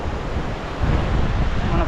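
Cold Himalayan stream water rushes along a path on the Vasudhara Falls trek, a loud, close, continuous roar that swells slightly partway through, with wind buffeting the microphone.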